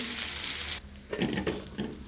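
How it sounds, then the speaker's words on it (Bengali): Flipped fish pieces fry in a pan of hot oil, a bright close sizzle that drops briefly and then swells again with a few spatters, no talk. "এই যে মাছগুলো আমি এখন উল্টিয়ে দিয়েছি একদম মাছ মশা ভাজা হবে"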